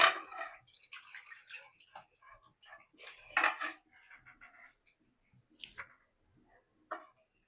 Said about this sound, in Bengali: আমি এখন নামাই ফেলছি প্রেসার কুকার থেকে, হাঁড়িতে ঢেলে দিই